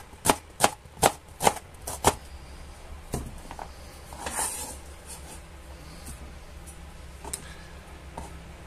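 A knife slices onions on a cutting board: about six sharp, evenly spaced chops at first, then a few scattered softer cuts with quiet handling noise between them, close and alone with no talking.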